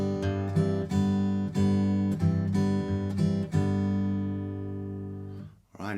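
Acoustic guitar playing a song riff, a run of strummed chord stabs and ringing notes, close and clear, with a final chord left to decay into quiet before a short scrape.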